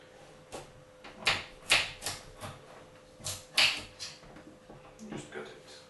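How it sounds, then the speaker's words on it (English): A knife cutting a carrot into little cubes on a board for chicken soup, with a series of irregular close thuds and crunchy chops. "next I'm gonna cut the carrot"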